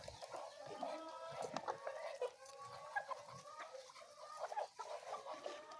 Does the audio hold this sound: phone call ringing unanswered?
no